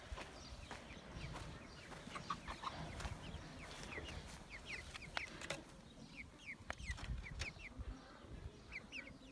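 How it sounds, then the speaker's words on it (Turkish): Many chicks peep and chirp together under a steady hum of background noise, with a few sharper clucks and clicks from chickens scattered throughout. "Civcivlerimiz."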